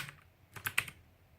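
Several quick keystrokes clatter on a Motospeed Inflictor CK104 RGB mechanical keyboard, a short close burst of crisp clicks after a faint tap, in a quiet room.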